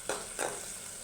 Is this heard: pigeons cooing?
no